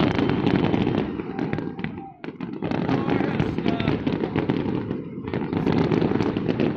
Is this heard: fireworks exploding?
yes